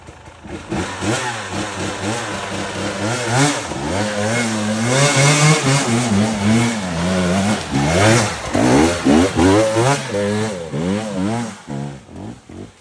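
A motorcycle engine revs repeatedly at close range, rising and falling in pitch with throttle blips over a rough idle, loud and continuous throughout.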